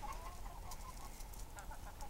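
A rooster on a backyard chicken farm clucks softly, with low, close, repeated clucks over a steady outdoor background hiss. No one speaks.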